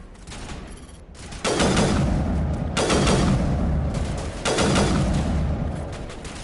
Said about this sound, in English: Looks like they've got a sniper of their own somewhere.